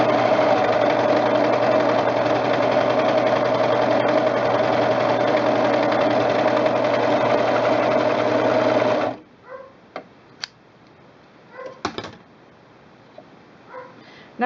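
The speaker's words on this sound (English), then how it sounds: "now I'm going to run another line of stitching so you can see the difference" A serger sewing machine stitches a line along fabric with a loud, steady, close whirring drone for about nine seconds, then stops abruptly, leaving faint handling clicks and a brief voice.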